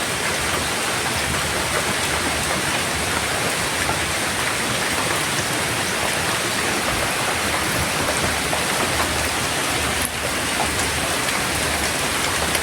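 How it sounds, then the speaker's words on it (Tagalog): Heavy rain pours steadily over a garden house and its plants, a dense, unbroken hiss of drops drumming on surfaces, close and loud throughout with no voices. "Sobra isang oras na yung ulan dito"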